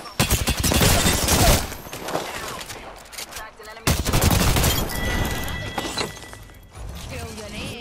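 Gunfire in a first-person video game shooter: dense bursts of rapid automatic fire and sharp shots, loud and close, pausing briefly midway before resuming, with a player's voice talking over the action.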